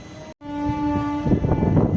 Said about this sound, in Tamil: ஓகே மக்களே, ஹார்ன் கொடுத்துட்டாங்க